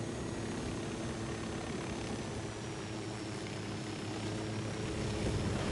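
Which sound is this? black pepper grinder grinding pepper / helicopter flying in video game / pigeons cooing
helicopter flying in video game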